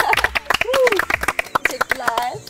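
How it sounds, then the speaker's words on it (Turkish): Scattered hand clapping from a small group celebrating the winner of a game of cops and robbers, sharp claps mixed in with lively talking and voices throughout. "Alkışlayalım."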